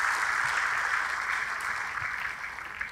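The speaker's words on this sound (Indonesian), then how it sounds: "Tepuk tangannya yang paling meriah buat Tuhan kita." Church congregation applauding during a sermon, a steady wash of hand clapping at moderate distance, fairly soft and continuous with no voices on top.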